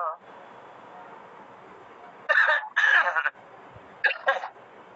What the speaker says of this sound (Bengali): আমার খুশখুশি কাশির জন্য কথা বলতে একটু সমস্যা হবে